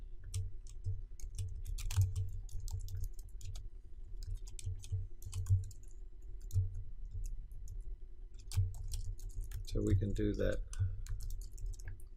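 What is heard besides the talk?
typing on a computer keyboard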